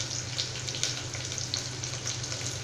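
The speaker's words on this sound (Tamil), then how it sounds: "இப்போ இது எல்லாமே நல்லா வதங்கிட்டு இருக்கு." Shallots, garlic and dried chilies sautéing in a pan for sambar rice, a steady close sizzle and crackle with faint stirring scrapes and no talking.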